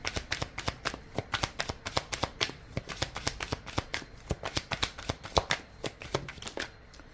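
Oracle cards from an Inner Star deck being shuffled by hand, a steady run of quick, crisp riffling flutters close up, with no talking.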